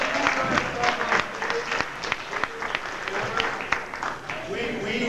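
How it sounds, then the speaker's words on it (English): A comedy club audience at the Dayton Funny Bone breaks into steady, full-room applause for a birthday guest, dense clapping sustained for several seconds with crowd noise mixed in. "Let's give Amber a round of applause."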